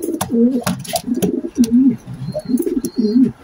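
Young pigeons in a loft cooing in soft, low repeated bursts, several calls close together and close by, with no talk over them.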